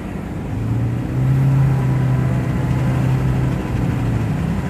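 A 2014 Toyota Prius hybrid accelerating on the road, heard from inside as a steady low engine and road drone with a sustained low hum that swells slightly, no voices over it.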